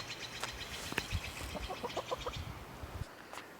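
Backyard hens cluck softly in a quick series of short calls against steady outdoor background noise, fairly close but not loud.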